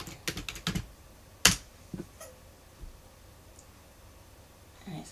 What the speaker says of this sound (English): So I can type silhouette version.